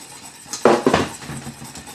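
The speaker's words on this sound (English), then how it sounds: "Really whisk it up so that all the baking soda dissolves and mixes up" A whisk scrapes and clatters in a pot as baking soda is beaten into hot caramel, a few quick close strokes against the metal, with no voices.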